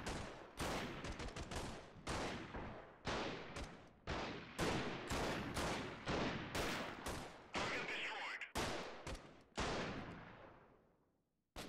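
Repeated loud gunshots in the Freeman: Guerrilla Warfare game fire in a fast steady rhythm, each sharp crack trailing into a short decaying echo, with a few quicker overlapping volleys and a fade near the end.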